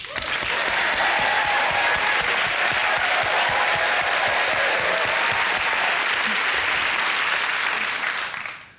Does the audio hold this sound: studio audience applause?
yes